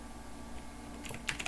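Soft computer keyboard typing plays over a low background hum. It starts with faint occasional taps, then a quick cluster of sharper keystrokes near the end.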